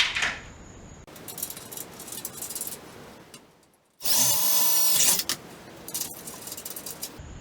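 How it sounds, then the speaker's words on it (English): A power drill bores bolt holes for the feet of a pull-down attic staircase, with a short burst near the start and a louder, steady whine of about a second later, separated by quieter handling noise and clatter. "drill one hole and put your bolt in"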